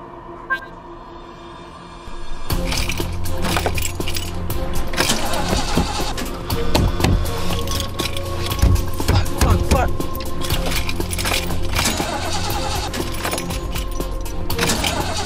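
A car engine repeatedly failing to start, with dense rattling, cranking and clicking noise that begins abruptly after a quiet opening and continues loudly without catching.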